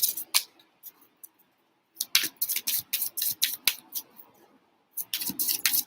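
A deck of tarot cards is shuffled in several quick runs of crisp, papery riffles, close and clear, separated by brief pauses, with no talking.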